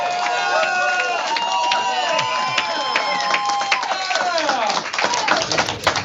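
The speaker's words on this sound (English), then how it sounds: "we got a good, wonderful, rowdy crowd here" A rowdy crowd at a campaign headquarters in Palmdale cheers and claps, a lively mix of voices, whoops and scattered claps that stays up close and busy throughout.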